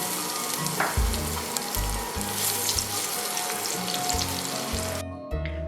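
A tablespoon of chopped garlic fries with cumin, cinnamon and peppercorns in a hot pan, giving a loud, continuous close sizzle with spattering crackles and a faint repeating low hum.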